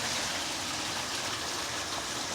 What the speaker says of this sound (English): So that water just keep coming back out.